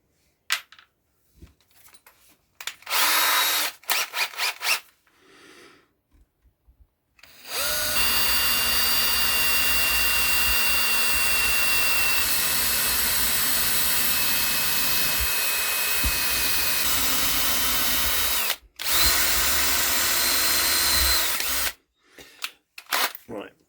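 A power drill whirs steadily for several seconds, with shorter bursts of drilling before and after, close by.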